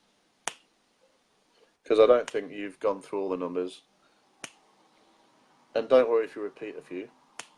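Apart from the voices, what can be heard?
finger snapping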